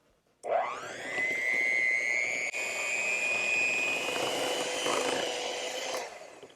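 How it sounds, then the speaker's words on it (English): An electric hand mixer beats honey and butter together, its motor whining up to speed and then holding a steady, close, loud drone for about six seconds before cutting off. "using a hand mixer, we're going to beat the honey and the butter together till it's creamy and well combined"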